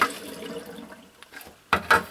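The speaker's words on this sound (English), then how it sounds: "I have to rinse the seeds now." Water splashes over sprouting seeds in a tray as they are rinsed, first a soft trickle and then two louder gushes near the end, close and short.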